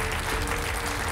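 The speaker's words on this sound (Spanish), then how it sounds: "Bueno, un aplauso para los chavales de Orio." A studio audience on a TV debate set claps for the young rowers from Orio, a brief burst of dense applause heard at even level throughout.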